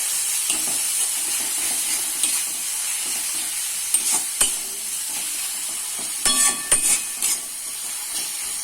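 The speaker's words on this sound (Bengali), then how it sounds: "মশলাটা কষিয়ে নেব ভালো করে নেড়ে" Turmeric and cumin spice masala frying and being stirred for a Bengali mushroom masala, a constant hissing sizzle with intermittent spatula scrapes and clinks against the pan, close and loud.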